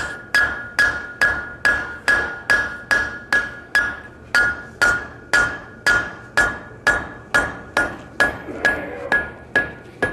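A blacksmith upsets hot steel with a hammer, landing about twenty loud, evenly spaced ringing blows, close and alone, each with a bright metallic ring fading between strikes.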